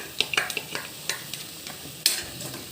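Ginger, garlic and coriander paste being sautéed with tomato purée in a pan for paneer do pyaza, a soft sizzle under a series of sharp scraping and clinking stirs of a spatula against the pan, spaced irregularly.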